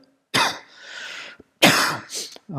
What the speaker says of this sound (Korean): 제가 기침이 잘 안 떨어지네요.